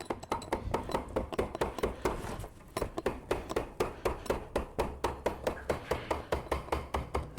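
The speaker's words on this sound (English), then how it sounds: "Then you just bend this up, tap it with a hammer" A hammer taps sheet metal, bending up an edge to form a sharp corner, with a rapid, even series of light metallic knocks, close but fairly quiet, continuing for several seconds without talk.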